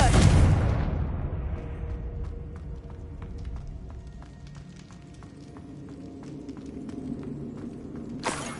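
Confringo fire spell cast in Hogwarts Legacy: a loud blast bursts at the start and fades into a low rumbling tail over game ambience, and a second sharp burst arrives near the end.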